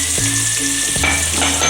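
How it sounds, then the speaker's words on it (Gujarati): Tomatoes and onions sautéing in a pan with turmeric and coriander-cumin powder, frying steadily with continuous close sizzling and a few stirring scrapes, no talk. "તો હવે આને સારી પેટ સાતળવા દેવાનું છે।"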